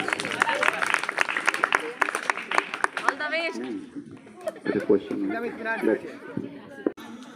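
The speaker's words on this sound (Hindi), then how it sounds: "इनके लिए जोरदार ताली बजाइए" A crowd of students claps for a contestant in a school quiz game, a short burst of clapping at the start before voices and chatter take over.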